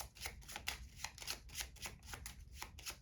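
A pile of playing cards is riffled and shuffled repeatedly, a quick papery fluttering in short rhythmic bursts, close and fairly quiet.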